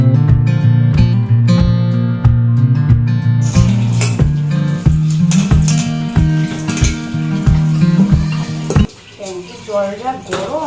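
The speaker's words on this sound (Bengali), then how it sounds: "আর হাঁড়িটা মেজে নিচ্ছি, হাঁড়িতে ভাত বসাবো তো" A cooking pot is scrubbed in a kitchen sink before rice is put on, with loud repeated metallic clanks and scraping in an uneven rhythm, then splashing water near the end.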